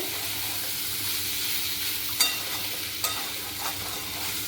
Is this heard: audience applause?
no